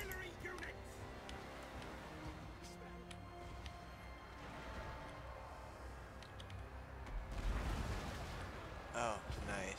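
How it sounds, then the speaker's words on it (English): Artillery firing in a Warhammer fantasy strategy battle, distant booms and crackling blasts layered over a busy battlefield din, growing louder near the end while someone talks. "Oh, the artillery's going."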